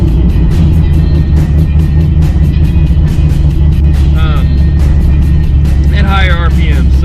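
A 1986 Mustang GT engine idles with a steady low rumble that sputters and misses unevenly, close and loud, with brief chirps of another sound over it.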